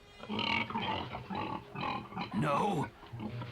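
A cartoon pig called the Tusker gives a run of grunts and snorts mixed with voices, ending in one louder squealing grunt.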